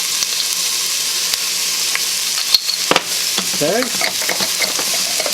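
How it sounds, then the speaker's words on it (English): Onions and minced garlic sizzle in a frying pan, a steady hiss with a few sharp clinks of a utensil against the pan and a brief spoken word near the start. "I'm going to put our onions in, and a little bit of minced garlic in here"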